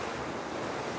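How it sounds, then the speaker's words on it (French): Steady wind rushing over open sea off Brittany with waves washing continuously, heard from a sailing boat, a broad even roar filling the whole second with no voices. "Le vent s'est enfin levé."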